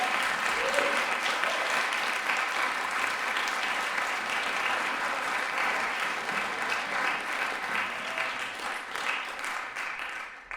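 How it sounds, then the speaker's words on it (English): Audience applause at a school event showcasing pupils' compositions: sustained, dense clapping from a full crowd that holds steady for about ten seconds before tapering slightly at the end. "So let's have a round of applause for these two."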